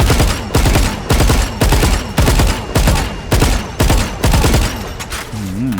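Arcane Vandal skin firing in the game Valorant: loud, punchy gunshots in a steady rhythm of about eleven evenly spaced bursts, each with a sharp crack and booming tail, filling the whole span with no talking.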